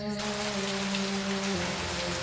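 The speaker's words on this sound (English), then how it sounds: "Just a drizzle." Light drizzle falls in the Agatha Christie: And Then There Were None PC game, a steady patter of raindrops over a constant low tonal hum, with no one speaking.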